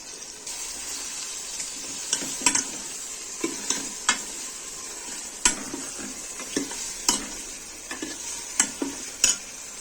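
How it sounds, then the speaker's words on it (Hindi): Tomatoes and green chilies sizzle in hot masala in a home kitchen pan for a beef and chana dal dish, a steady close frying hiss broken by repeated sharp scrapes and clinks of a spoon stirring. "अब जाएंगी मसाले में जाएंगे टमाटर और हरी मिर्चें।"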